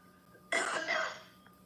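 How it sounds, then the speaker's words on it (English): A single short cough or throat-clear from a woman bursts out close and fairly loud, then trails off into quiet room tone. "Cough? Little bit of a cough?"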